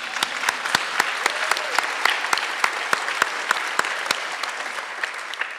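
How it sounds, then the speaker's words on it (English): An audience applauds at a Teaching for Black Lives event, with many sharp, separate claps over a continuous wash of hand noise, sustained and fairly loud throughout. "let's give him a round of applause."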